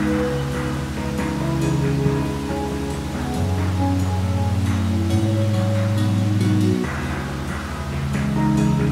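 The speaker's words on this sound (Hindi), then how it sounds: "यहाँ बैठ के बस इस वाटरफॉल के निहारता रहूँ और साइड में इस छोटे फॉल को देख के" Kempty Falls waterfall in Mussoorie roars as a steady, dense rush of water, loud and continuous throughout, with faint low tones from other sounds in the surroundings beneath it.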